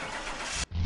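Inline three-cylinder car engine starting in Car Mechanic Simulator 2021, a loud, close, steady run that cuts out abruptly for a moment and then returns with a deep low hum.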